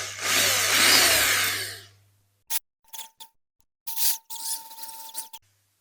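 A power drill bites into the rivets on the base of a Matchbox Super Kings K36/41 Bandolero diecast car, one loud whirring burst followed by short, sharp bits of drilling and scraping.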